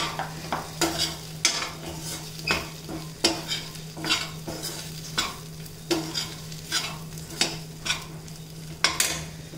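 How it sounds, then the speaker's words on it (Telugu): Grated dry coconut frying in a pan while being stirred for a jackfruit seed curry: steady, repeated scraping strokes with a soft sizzle beneath, close and clear, with no talking. "ఎండు కొబ్బరి ఎక్కువ వేపించకూడదు."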